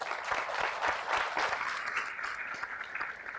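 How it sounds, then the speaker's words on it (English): A round of applause at a university scholarship program presentation, a room full of people clapping together in a steady, moderately loud patter that thins slightly toward the end, with no speech over it. "let's give them both a round of applause"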